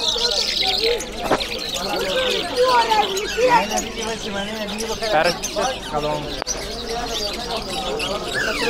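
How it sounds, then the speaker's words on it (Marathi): Sparrows chirp in Afghanistan, with a busy mix of quick, bright tweets and calls at fairly close range, while people speak at times. "हे सेम आपल्या इकडे चिमणी भेटते, ती चिमणी आहे."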